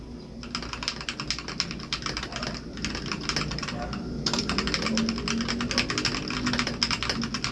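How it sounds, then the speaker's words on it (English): Rapid, continuous clacking of keys on a Leaven K620 mechanical keyboard, close and fairly loud, with a brief pause partway through before the typing resumes. "Here's a little sound test."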